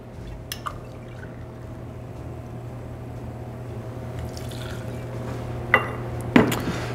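Gin poured into a metal shaker tin for a pomegranate martini, a thin quiet trickle of liquid building gradually, ending in a couple of sharp clinks of metal and glass.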